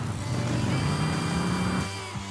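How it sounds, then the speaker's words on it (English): A motorbike engine in a video game drones steadily with a sustained tone, its pitch holding for about two seconds before dropping off, loud and alone with no talk. "Love The motorbike noises."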